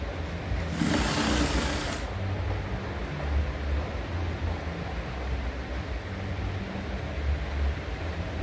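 A sewing machine runs steadily on a shirt sleeve, giving a continuous close mechanical whir with a brief louder, brighter burst near the start.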